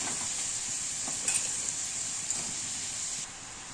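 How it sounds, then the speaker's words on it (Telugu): Ridge gourd pieces fry in a spiced tempering, giving a continuous soft sizzle with a couple of light stirring knocks, close by, fading slightly at the end. "తాలింపు బాగా ఫ్రై అయ్యాక బీరకాయ ముక్కలు వేసుకోవాలి."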